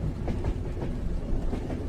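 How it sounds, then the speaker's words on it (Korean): Trans-Siberian train running at night through snowy Siberia, a steady low rumble with soft rhythmic clickety-clack of wheels on rails, heard from inside the carriage, fairly quiet and continuous. "밤을 달리는 시베리아 횡단열차"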